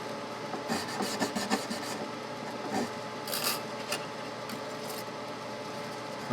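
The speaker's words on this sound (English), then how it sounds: "now we're going to polish the frets. First with 1500 grit, and then 1822 micro mesh" Guitar frets on a Martin Special D are polished by hand with 1500 grit paper and micro mesh, giving a close, steady scratchy rubbing with quick strokes in irregular bursts, alone and without talk.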